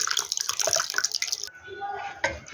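Milk pours into flour for soft ruqaq dough, a splashy liquid stream with dribbles that settles into a quieter trickle before a final knock, close up.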